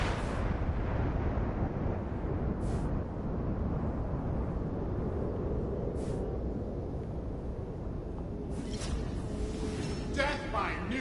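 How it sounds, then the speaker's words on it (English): A nuclear missile explodes in a battle-royale video game, a deep, sustained rumbling roar that fills the scene for several seconds with a few sharper blasts and crackles on top. "nuclear missile has landed on East Zone"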